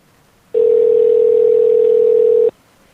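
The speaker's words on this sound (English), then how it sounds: "Dialing the phone as we speak." A telephone dial tone sounds while a call is placed to a guest on a live radio broadcast: one steady, loud, unbroken tone lasting about two seconds, with no other sound around it.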